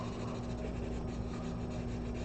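A charcoal pencil scratches and rubs steadily across paper during a drawing demonstration, with continuous close, soft strokes and no voice.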